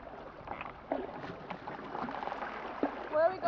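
A canoe being paddled on Lobster Lake, with soft water swishes and splashes, faint wind and light knocks, and voices talking close by throughout.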